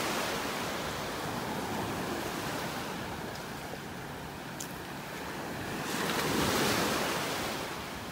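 Ocean surf rolling onto a beach in North Naples, Florida, a continuous broad wash of waves with some wind rumble, swelling louder near the end.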